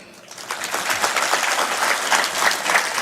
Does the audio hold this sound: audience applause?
yes